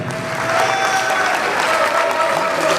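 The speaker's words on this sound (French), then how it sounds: "On les acclame encore, s'il vous plaît" Audience applause fills the hall at an awards ceremony at the Palais des Congrès in Kara, a loud, continuous crowd clapping with faint voices mixed in.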